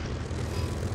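A Polikarpov I-185 fighter with an M-82 radial engine runs in a War Thunder simulator battle, giving a steady, full propeller-engine drone that holds constant throughout with no talk over it.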